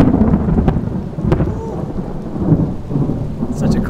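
Rumbling thunder rolls over steady rain during a thunderstorm in Liechtenstein, heard while sheltering under a garage; deep booms swell and fade across the steady patter of rain, with no talking.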